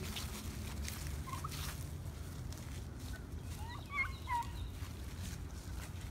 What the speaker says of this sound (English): I've never been this close to a wild turkey. It's crazy. They really do gobble.